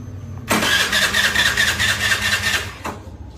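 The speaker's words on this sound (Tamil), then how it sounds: "இப்போ நான் பிளக் வயர் கட்டி இருக்கிறேன், அதனால தான் எவ்வளோ நேரம் செல் பண்ணிக்குது பாருங்க" A Suzuki Access BS6 scooter's electric self-starter cranks with the spark plug wire disconnected, a loud close whirring churn that runs steadily for over two seconds without the engine catching, then a brief second burst.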